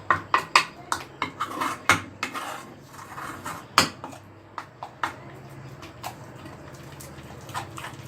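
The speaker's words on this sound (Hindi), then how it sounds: "ये देखिए पूरा घोलना है इसको अच्छे से" Hair dye paste being stirred in a bowl, with a series of sharp clinks and taps, quick at first and then more spaced out, over a quiet background.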